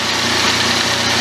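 A Yamaha MT-09 Tracer motorcycle engine idles steadily and loudly up close, a smooth continuous drone with no voices over it.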